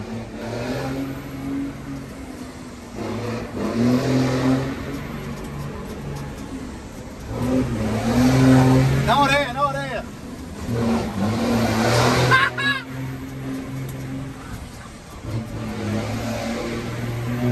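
A car engine revving repeatedly on a city-centre street, rising and falling in several loud surges with a rough mid-pitched growl, plus fainter background street noise.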